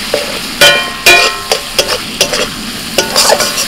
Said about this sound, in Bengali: দু মিনিট মশলাটা কষে নিয়ে দিয়ে দিচ্ছি টমেটো